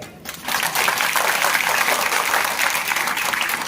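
Audience at a five-day Ramayana gathering in a village bursts into steady, dense applause that starts abruptly and holds at full strength for several seconds, with no voices over it.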